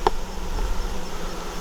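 Honey bees buzzing during an August beehive inspection, a close, steady insect drone with a brief sharp click at the start, and no voices.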